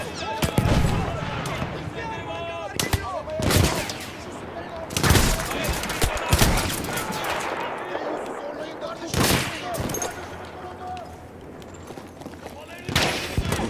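Gunfire in the Battlefield 1 video game, scattered loud shots and short bursts landing at irregular intervals amid battlefield noise, with someone talking over much of it.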